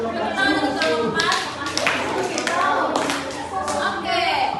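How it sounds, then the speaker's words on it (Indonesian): A classroom of students claps for a student group after their presentation on a procedure text about making milk chocolate, steady clapping continuing for several seconds with children's voices and chatter mixed in. "Tepuk tangan untuk kelompok"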